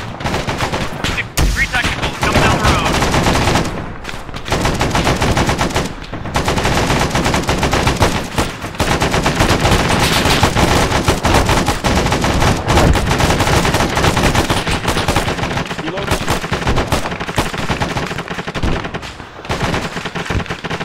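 Sustained suppressive gunfire from an Arma 3 firefight, loud and dense with rapid overlapping bursts and shots running almost continuously, a few brief pauses between volleys.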